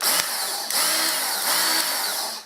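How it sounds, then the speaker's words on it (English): A basic Work Sharp belt knife sharpener runs with a loud, steady motorized whine and belt hiss, close up, with a brief click near the start and slight shifts in pitch as it spins. "It's just it's a belt, spins around, crank the trigger,"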